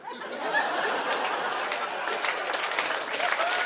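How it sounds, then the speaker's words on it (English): Comedy club audience at a live stand-up show breaking into dense applause, a close, sustained wash of many hands clapping with some laughter and chatter mixed in. "Don't know what we're clapping for, but let's do it."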